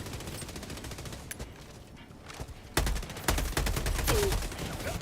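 Turret gunfire in Helldivers 2 on Helldive difficulty, dense rapid bursts and explosive impacts that start faint and grow louder and closer partway through.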